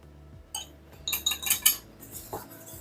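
Flour and baking powder are stirred together in a bowl, giving a short run of clinking, scraping utensil strikes against the dish, several quick taps clustered in the middle, close and fairly quiet, with no talking.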